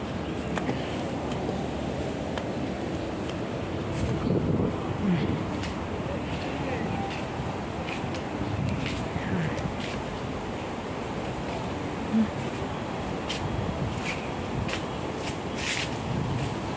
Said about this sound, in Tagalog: Ang sarap ng hangin. Mahangin-hangin siya.